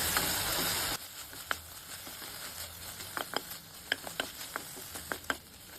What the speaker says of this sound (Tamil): இப்போது கொத்தமல்லியும் சேர்த்து வதக்கிக்கலாம்